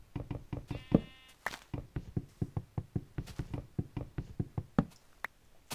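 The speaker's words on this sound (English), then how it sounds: "And here's a sheep." In the Minecraft video game, a sheep gives a single brief bleat early on. A steady run of rhythmic knocking taps continues throughout.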